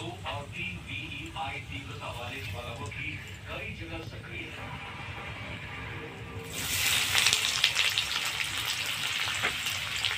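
Chopped onions dropped into hot oil with curry leaves for chirer polau, a sudden loud sizzle that swells and keeps hissing steadily, with someone talking before it starts.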